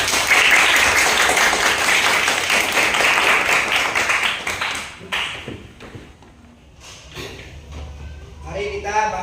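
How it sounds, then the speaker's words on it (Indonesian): A group in a classroom setting claps together, a dense burst of applause that fades after about five seconds into scattered claps, with voices speaking afterward. "nah, tepuk tangan."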